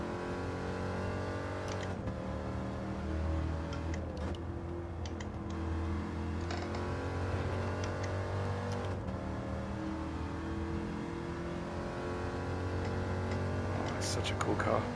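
A Corvette engine revs and accelerates in Gran Turismo 7, a throaty rising and falling drone through gear changes, with someone talking over it.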